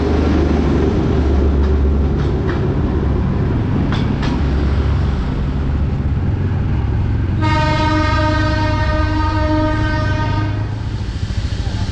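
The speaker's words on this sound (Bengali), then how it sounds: "কয়লা ভেঙে দিচ্ছে, ভেতরে আগুন জ্বলছে, আর ট্রেন ছাড়বে এখন।" A coal-fired Darjeeling toy train steam engine sits ready to depart, rumbling and hissing steadily at close range, then sounds a loud, sustained whistle for about three seconds.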